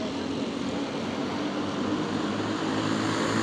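Several racing karts in an All Pro 390 class roar continuously as they accelerate around a short track, a dense, steady multi-engine drone with no breaks.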